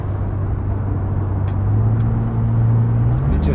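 BMW Series 1 E24 coupe engine pulling up a hill from inside the cabin, a steady low drone that swells and rises in pitch as the car climbs, continuous throughout with no talk.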